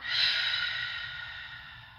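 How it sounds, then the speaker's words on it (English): A single long breath is blown out during a slow yoga session, an airy, fairly close exhale that fades gradually over about two seconds with no talking. "Take a big breath in. Blow it out."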